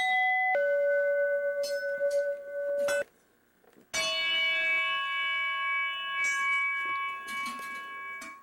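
A ball strikes the cut-off bottom of an oxygen tank in a ball machine, giving clear ringing metallic bell tones: one strike that decays for about three seconds, a short silence, then a louder, brighter strike that rings on with some faint clatter.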